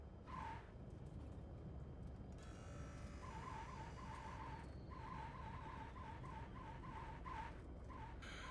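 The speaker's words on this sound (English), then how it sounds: "Hate those brake sounds." A Cirrus SR20 in X-Plane 11 brakes on landing, producing a thin, repeated squealing whine in short pulses over steady engine and wind noise, fairly faint and without talk.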